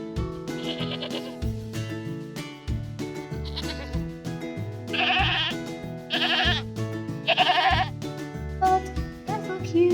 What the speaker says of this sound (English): It's the goat.